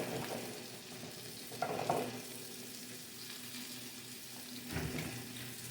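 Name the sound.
salmon patties frying in a pan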